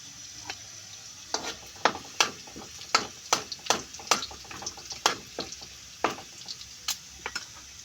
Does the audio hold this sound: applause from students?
no